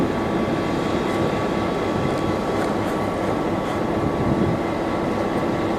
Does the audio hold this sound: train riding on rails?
yes